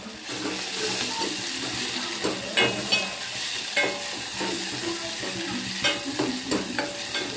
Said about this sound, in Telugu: టమాటాలు వేసి కలపాలి.